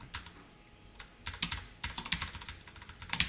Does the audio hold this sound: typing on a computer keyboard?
yes